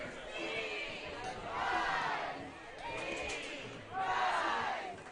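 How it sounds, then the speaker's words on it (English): Fans at an Ultimate exhibition game, Portland Rising against New York Gridlock, pump up the crowd with loud rolling cheers and chanting shouts that swell in repeated waves across the stadium. "Some fans pumping up the crowds here as we get ready to head into the fourth quarter of action"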